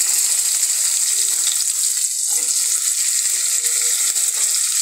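Raw mango pieces frying with browned onions, a loud, dense, steady hiss of sizzling oil close up, with faint scattered pops and stirring taps beneath.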